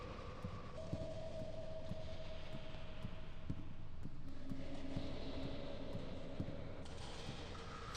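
A train rumbles steadily along in the video game Alone in the Dark, a continuous low roar with faint metallic rattles and a sustained tonal whine shifting in pitch, with no talking.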